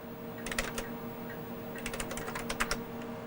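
Two short bursts of clicky keystrokes on a computer keyboard used with a Tandy TRS-80 disk cartridge system, close and fairly quiet over a steady electrical hum, with no talk.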